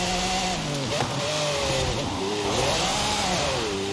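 A car engine in Forza Horizon 5 revs and accelerates steadily throughout, its pitch rising and falling in sweeping harmonics, with loud continuous game sound.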